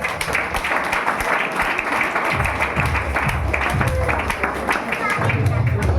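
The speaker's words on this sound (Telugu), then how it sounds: "క్లాప్స్ కూడా ఎంకరేజ్ చేయండి" An audience at a Christmas skit claps steadily in a hall, a sustained patter of many hands that swells and continues beneath a speaking voice.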